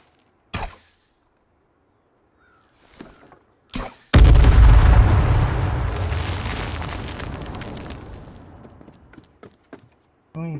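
Gunfire during a base raid in the video game H1Z1: a few sharp isolated shots, then a heavy blast with a long rumbling tail that slowly fades, followed by scattered faint pops.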